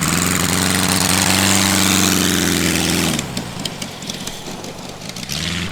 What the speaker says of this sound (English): It sounds like all 4 cylinders are going.